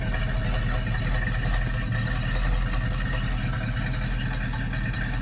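A 1967 Ford Mustang fastback S-code 390 GT V8 with a 4-speed idles steadily close by, a dense, loud and continuous engine rumble with no talk over it.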